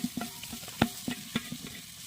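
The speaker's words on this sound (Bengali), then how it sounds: "পেঁয়াজ, রসুন, আদা, সব রকম মশলা হাঁড়িতে চাপানো" Onion, garlic, ginger and mixed spices sizzle in a pot with a soft, continuous fry. Close, sharp clinks and scrapes of stirring recur every quarter second or so, with no talking.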